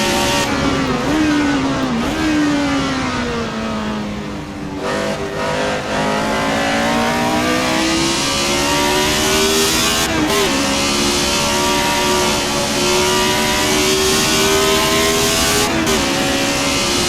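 A 1976 McLaren M23 Formula 1 race car in Assetto Corsa, its engine loud and continuous, revving up and down through gear changes with brief dips, no talk over it.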